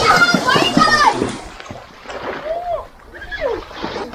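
Water splashing from an outdoor shower at a glamping resort in Moalboal, Cebu, heard under a child's and adults' excited talking and squeals close by.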